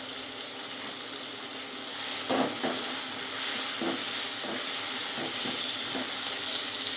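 Onions and tomatoes frying in hot oil for Chettinad chicken, a steady close hiss and sizzle with a few soft stirring scrapes, no voices.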